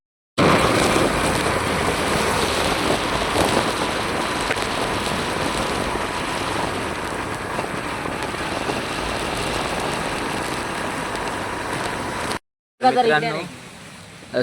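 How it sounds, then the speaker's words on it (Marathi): Steady rain pours down in a broad hissing wash over farmland in Konkan, India, with a low engine hum of a working tractor underneath and some talking, cutting off abruptly near the end. "पावसाला सुरुवात झाली आहे"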